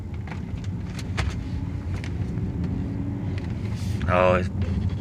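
A salvage BMW 750i driving after repair: a low engine rumble with a brief rising rev near the end, heard under intermittent talking.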